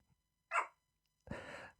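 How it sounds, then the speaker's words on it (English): A dog barks in the background of a room, two short, separate, fairly faint barks with silence between them. "And Maisie the dog in the background, I hope, is kind of manifested this herself by barking and making a bit of a noise."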